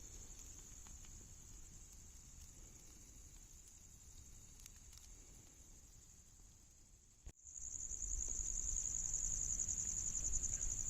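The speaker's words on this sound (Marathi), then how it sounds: "रातकडे खूप मोठमोठ्याने ओरडत आहेत" Crickets chirp at night in a village in a steady, continuous high-pitched trill against a low outdoor rumble, briefly dropping out before resuming louder.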